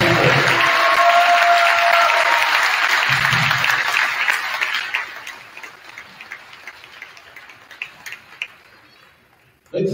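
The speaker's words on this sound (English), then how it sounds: "Let's give one last round of applause to the seniors of 2024." Loud crowd applause and cheering in a high school gym at a varsity basketball game for the seniors, fading after about five seconds into scattered claps and quieter murmur.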